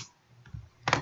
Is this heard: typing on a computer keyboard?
yes